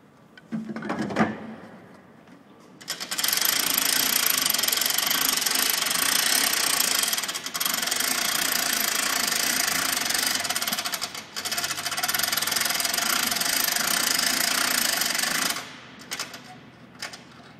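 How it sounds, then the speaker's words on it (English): A Lektro aircraft tug winches a castering nose-wheel aircraft forward: a short clunk, then a loud sustained mechanical grinding drone for about twelve seconds with two brief dips, ending in quieter clicks, no talking. "now we're going to winch the aircraft forward."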